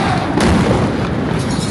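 Loud, continuous roaring rumble from Israeli airstrikes on Beirut fills the whole stretch, a dense, distorted wall of blast noise with no quiet gaps.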